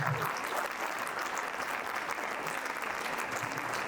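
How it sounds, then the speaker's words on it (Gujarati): An audience at a cultural awards event breaks into sustained, dense applause, a loud continuous wash of clapping from a large crowd with no voices standing out. "આ થેન્ક્સગિવિંગની તાળીઓ છે ભગવાન માટે, જે જોરદાર થવી જોઈએ."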